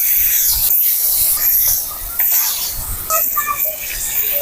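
Pieces of catla fish hiss and sizzle loudly as they go into hot oil, a bright spitting crackle that continues close up.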